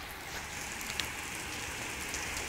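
Heavy rain pours steadily, a dense, even hiss of drops on surfaces with occasional louder splatters, nearby and unbroken.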